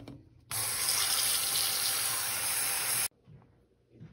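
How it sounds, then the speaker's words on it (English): Tap water runs steadily into a sink as a tortoise's food bowl is rinsed, a loud hissing gush that starts abruptly, holds for about two and a half seconds, then cuts off. "I dump the bowl, and now I'll wash it."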